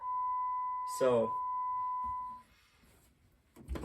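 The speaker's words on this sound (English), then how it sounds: "And it's just gonna beep and be stupid." A Jeep Wrangler JK chimes with its keys in the ignition, a steady continuous electronic tone lasting about two and a half seconds before it stops, with someone briefly talking over it.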